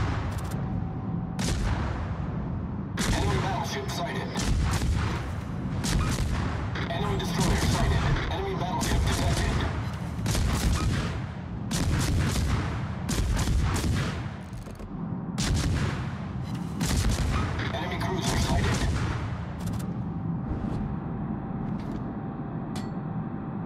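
Naval artillery fire in the PC game World of Warships, a dense run of repeated heavy gun blasts and booms with rumbling engine noise beneath, loud and close, with a voice speaking at times.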